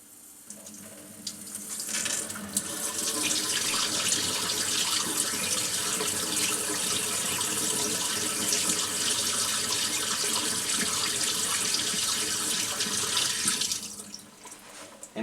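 A kitchen faucet runs cold water in a steady, hissing stream into a sink, starting after a quiet moment and shutting off near the end.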